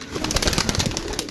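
Pigeons coo in a loft, among them a reddish kasdar pigeon, giving a dense, steady run of close, throaty calls that fills the whole stretch without speech.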